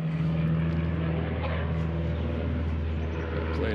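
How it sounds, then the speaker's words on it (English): A propeller airplane drones low overhead above a farm where a goat feeder is being rebuilt, its engine tone steady and fairly loud throughout with no talk. "The plane is a little close."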